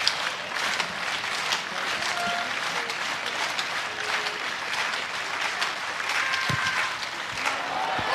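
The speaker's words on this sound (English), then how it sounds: "the clapping you heard, it wasn't the Welsh support trying to put it off a kick" Sustained crowd clapping fills a stadium during a women's Rugby World Cup 2014 France versus Wales match as a kick is taken, a steady wash of applause with faint distant voices mixed in.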